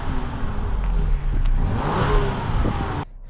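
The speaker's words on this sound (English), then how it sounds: "we're gonna let you guys hear the exhaust." Ford Explorer ST SUV exhaust revs loudly and close, a rising, surging roar that holds for a few seconds before cutting off abruptly.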